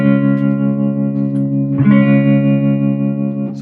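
Electric guitar played through an amp with tremolo, riffing in the style of a classic rock song; sustained chords throb in a steady pulsing swell, loud and close, with a fresh strum near the middle and no talk.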